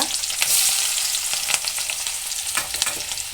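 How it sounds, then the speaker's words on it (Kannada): Okra sizzles and crackles steadily in plenty of hot oil with mustard seeds, a close, dense frying hiss broken by sharp pops and spatters throughout. "ಫ್ರೈ ಆಗಬೇಕಾದದ್ರಿಂದ ಎಣ್ಣೆ ಸ್ವಲ್ಪ ಜಾಸ್ತಿ ಹಾಕಬೇಕಾಗುತ್ತೆ ಈಗ ಬೆಂಡೆ ಇದು ಸಾಸಿವೆ ಸೀಡ್ದಿದೆ"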